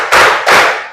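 Two sharp hand claps in a classroom clapping drill, loud and close, the second following about a third of a second after the first, each with a brief ringing tail.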